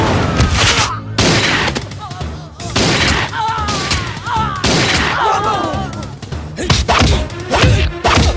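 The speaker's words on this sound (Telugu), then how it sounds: "అక్కడ కాల్చు." A rapid series of gunshots and thuds fills a Telugu film comedy scene, dense and loud throughout, mixed with music and shouted voices.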